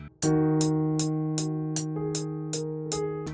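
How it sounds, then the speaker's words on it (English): A keyboard chord is strummed once, then eight more times at a steady pace, each strum a bright attack over a sustained, ringing chord. "I think we should strum this first chord so it sounds like this."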